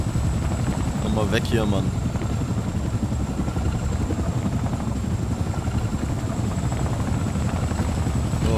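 Steady, loud helicopter rotor and engine rumble from the video game Wolfenstein II fills the whole stretch without pause, while someone speaks over it.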